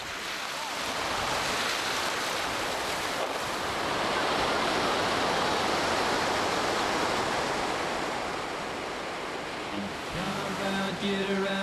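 Ocean waves breaking at a surf beach at Jacó, Costa Rica, a loud continuous roar of surf with wind, rising and settling, and a low steady tone near the end.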